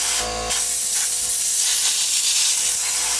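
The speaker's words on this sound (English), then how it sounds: "So let's give it a quick blast of air." Compressed air blasts into the disc mechanism of a JVC MX-J9 CD player, producing a loud, continuous close hiss after a brief initial burst.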